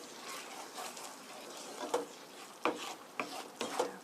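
A spoon stirs fusilli pasta through tomato sauce in a pan, soft scraping and wet shuffling punctuated by a few sharper clinks against the pan, fairly quiet and close.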